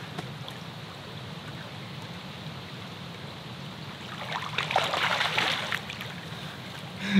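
King salmon splash in a Michigan river over a steady flowing rush, a burst of splashing clustered near the end.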